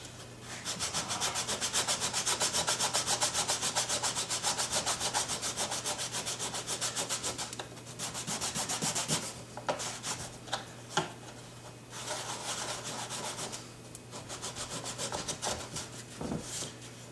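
A small handheld sander works over a white plastic piece, a steady close raspy rubbing that runs continuously, then breaks into shorter strokes with brief pauses.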